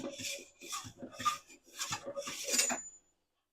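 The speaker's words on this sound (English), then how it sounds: "let me grab my cutting board here and get my knife" A wooden cutting board and knife are handled in a kitchen, giving a run of close rubbing and scraping strokes, about five in a steady rhythm, then stopping abruptly.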